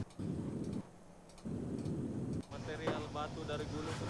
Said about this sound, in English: The volcano was actually getting struck by lightning